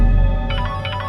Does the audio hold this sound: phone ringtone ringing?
yes